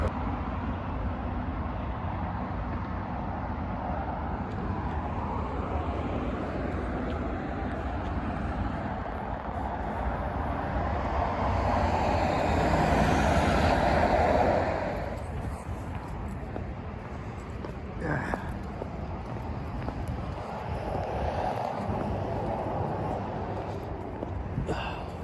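Ride aboard a MAX light rail train, with a steady low rumble of the car in motion and a swelling passage partway through, fairly quiet and continuous and without speech.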